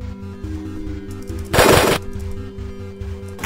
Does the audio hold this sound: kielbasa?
no